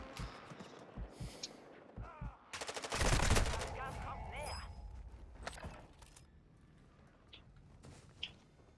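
A close, dense burst of automatic gunfire from Call of Duty MW2 online play, rattling for about a second amid scattered shots and thuds, with players talking over the game sounds.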